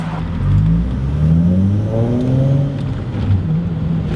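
A Volkswagen Corrado VR6 drives along on a road, its engine droning steadily near and loud with rising and falling pitch as the revs change, with no talk.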